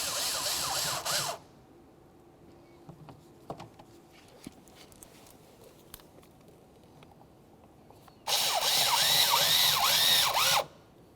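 A 5.5mm socket on a power driver drives the lower mounting bolts of an exterior door handle on a 2001-2005 Ford Explorer Sport Trac. Two short, close whirring bursts rise in pitch and are separated by a quiet pause.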